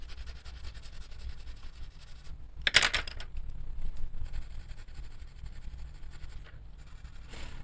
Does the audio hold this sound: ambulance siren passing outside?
no